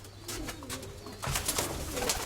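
Pigeons coo steadily at close range in a loft, several birds overlapping with soft throaty calls and occasional wing rustles.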